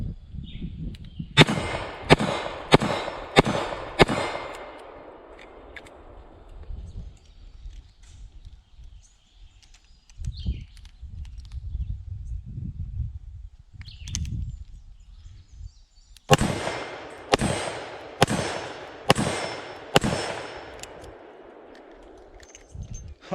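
Two quick bursts of about five sharp .38 Special shots each from a Ruger SP101 revolver, loud and close, with a quiet stretch of low rumbling movement in between.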